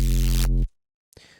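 Drum and bass synth bass patch: a loud, deep, buzzy sustained bass note that cuts off abruptly after about half a second, followed by near silence.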